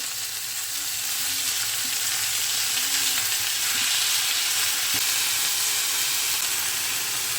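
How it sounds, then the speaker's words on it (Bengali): Fenugreek leaves frying in a hot pan after garlic, with a loud, even, continuous sizzle and hiss close by, and a few faint stirring touches underneath. "এবারে আস্তে আস্তে শাকটা ছেড়ে দিই। নেড়ে দিই ভালো করে।"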